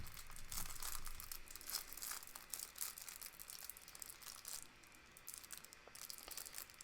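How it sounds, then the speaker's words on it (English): Sealed pack of trading cards being torn and crinkled open by hand, a close, continuous papery crackle and rip with scattered sharp crinkles, fairly quiet and with no talking. "I'm going to struggle to get into this pack of cards"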